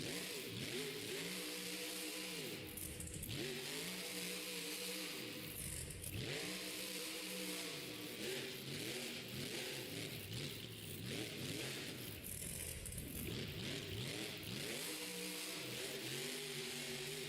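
A monster truck running with no rear right power revs hard during a stadium freestyle run, its engine surging and dropping in repeated loud sweeps with a roaring, fluttering tone, close and continuous.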